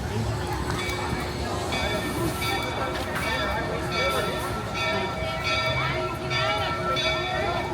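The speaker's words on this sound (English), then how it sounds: "What is this clanging we can hear? It's the train! There it is, pulling into the station." A train bell clangs repeatedly as a train pulls into a station at Disneyland, bright evenly spaced rings over a rumbling rail background, with people talking nearby.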